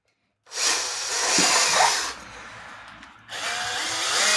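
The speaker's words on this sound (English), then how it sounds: "So let's just drill 16 mil here." A power drill whirs loudly for a couple of seconds while drilling a 16 mm hole, briefly eases off, then spins up again, with no talking.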